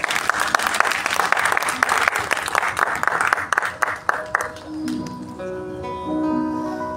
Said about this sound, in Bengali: আরেকটি বার জোরে করতালি।